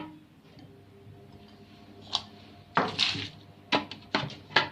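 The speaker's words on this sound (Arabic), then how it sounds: "هنضرب البيض مع بعض كده" Eggs being beaten together in a bowl for a tangerine cake: after a quiet start, sharp clinks and taps come in short irregular bursts, close and fairly loud.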